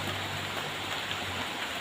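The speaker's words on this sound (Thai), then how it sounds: "ฝนตกดูสิเนี่ย ตกไม่แรงดอกดูท่าทางจะตกนาน" Light, steady rain falls outdoors as an even, continuous hiss with a low hum underneath and no speech.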